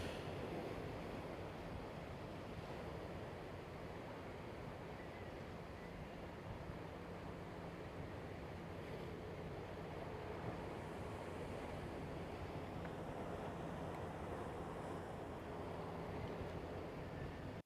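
Ocean waves wash steadily ashore off Kona, Hawaii, a soft continuous surf roar with gentle swells, heard faintly from a distance with no talking.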